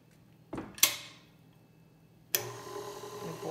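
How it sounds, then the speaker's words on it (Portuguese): After a couple of clicks and knocks, an electric mixer starts up and runs with a steady, fairly close whir while whipping fresh cream into chantilly for coconut ice cream. "Vou ligar a batedeira"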